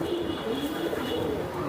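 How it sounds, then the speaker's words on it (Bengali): Racing pigeon cooing softly in a loft, a low steady purring murmur that runs continuously through the moment with no other clear sounds. "এই যে দেখেন খুবই সুন্দর কোয়ালিটিফুল কবুতর"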